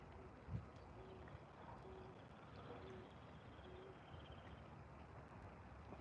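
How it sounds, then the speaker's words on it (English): An owl hoots faintly in the distance beside a river where walleye fishing is underway, its soft repeated calls sitting low under steady ambient noise with a brief thump near the start. "that's an odd bird sound. I've never heard that bird sound before. I think it's an owl."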